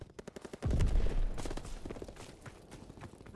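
Rapid gunfire in Call of Duty World War II, a steady stream of sharp shots with a heavier burst or blast early on, dense and close, continuing through the whole stretch with no talk.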